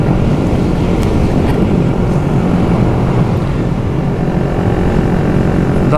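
A Suzuki GSX-R 125cc motorcycle in sixth gear while riding, with a steady, loud, continuous engine drone heavily mixed with wind rush against the microphone, unbroken throughout.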